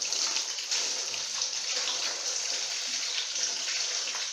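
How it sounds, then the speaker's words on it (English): Tap water runs steadily into a sink during hand washing, a continuous close splashing stream with no pauses. "so this is running water."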